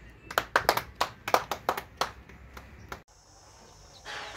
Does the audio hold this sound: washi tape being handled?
no